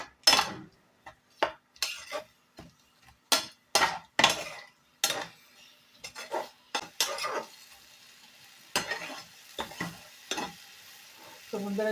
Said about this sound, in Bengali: জল দিয়ে মশলাটাকে আরো একটু ভালো করে কষিয়ে নেব